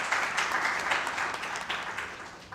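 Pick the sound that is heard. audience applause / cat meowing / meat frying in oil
audience applause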